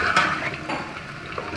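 A metal spoon scrapes and clanks through chicken and potato pulao with mint in a cooking pot, giving a short burst of close stirring and rattling followed by softer scraping.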